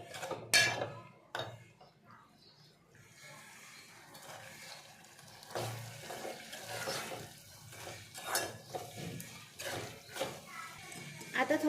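Drumstick vegetable pieces are stirred in a metal pan with a spoon, giving scattered clinks and scrapes at close range, with quiet talk in between.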